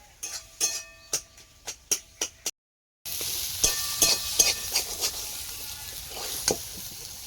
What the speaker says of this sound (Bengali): শাকটা ভাজা হয়ে গেছে তুলে নেব